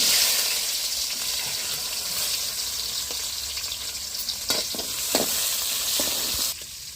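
Tempering of seeds, dried red chillies and onions in hot oil over a wood-fired stove, a loud, dense, continuous sizzle with a few scraping stirs toward the end.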